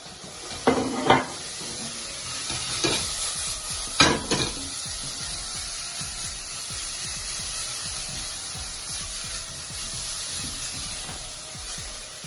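Chopped onions, celery and carrots sizzle as they soften in a pan for a spaghetti bolognese base, a steady low crackle broken early by a few loud clatters of a utensil against the pan.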